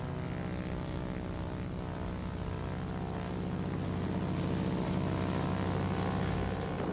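Propeller warplane engine in a World of Warplanes air battle, a steady dense drone that runs throughout and grows slightly louder toward the end, with no talking.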